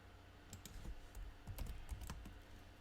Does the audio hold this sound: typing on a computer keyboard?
yes